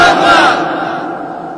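Large gathering at an outdoor Islamic sermon answers together in a loud unison shout, a single swelling crowd call that fades quickly.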